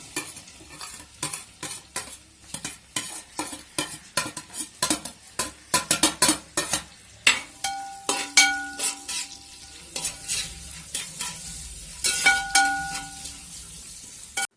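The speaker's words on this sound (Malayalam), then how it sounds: "വലിയ സവാള കനം ചെറുതാക്കി അരിഞ്ഞതും രണ്ട് പച്ചമുളകും കുറച്ച് ഇഞ്ചി ചെറുതായിട്ട് നീളത്തിൽ അരിഞ്ഞതും കൂടി ഇട്ടിട്ടാണ് നമ്മൾ വഴറ്റാൻ പോകുന്നത്" Sliced onion, green chilies and ginger sauté in a pan, with repeated scraping stir strokes and clinks of a spatula over a soft sizzle, close and rhythmic throughout.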